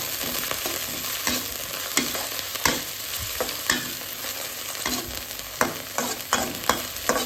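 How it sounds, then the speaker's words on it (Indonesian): Vegetables sizzle in a pan as they are stir-fried, with a steady frying hiss broken by repeated close scraping and tossing strokes. "ini kita tumis lagi"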